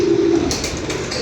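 Pigeons newly bought and brought in from abroad coo close by, a low burbling coo over the first half second, then a continuous hissy background with faint higher chirps.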